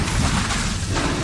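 Bombarda and Confringo spell blasts in the Hogwarts Legacy video game, a dense, loud burst of crackling, booming noise filling the whole short moment with no pause.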